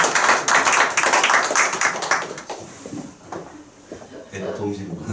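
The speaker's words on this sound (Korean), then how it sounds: "박수 한번 주세요" A church congregation claps for an introduced member, a brief burst of close handclaps that fades out within a few seconds, followed by quieter room sounds and a voice.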